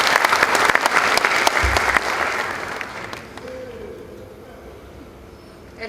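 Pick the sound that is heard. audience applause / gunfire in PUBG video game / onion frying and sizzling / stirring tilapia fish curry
audience applause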